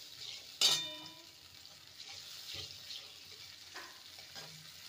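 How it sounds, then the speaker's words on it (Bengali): Spiced potato curry with yogurt is stirred in a pan. A soft, faint sizzle runs under a few scattered scrapes and clinks, one sharper knock near the start, and no talking. "টক দই দিয়ে ভালো করে নেড়ে নেব।"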